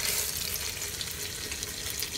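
Tofu fries in a pan over medium heat, giving a dense, steady, hissing sizzle that stays loud and even throughout with no pauses.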